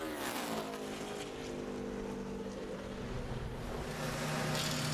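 NASCAR Sprint Cup race cars lapping in practice at Homestead-Miami Speedway in 2008, a steady, loud engine drone with sustained harmonic whine and rising pitch, continuous throughout with no talk.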